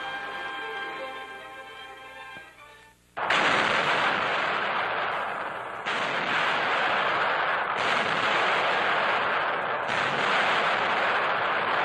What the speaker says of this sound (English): artillerymen test the powerful new 240-millimeter howitzers, some of the heaviest weapons in service